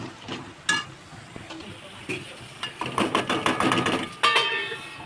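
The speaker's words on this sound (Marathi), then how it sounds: "आता हे तेलामध्ये वाटण शिजवून घेते झाकण मारून घेते पाच मिनटासाठी" Masala paste cooks in hot oil in a pot for a Maharashtrian bombil curry, giving a steady close sizzle broken by scattered clicks and scraping taps from stirring.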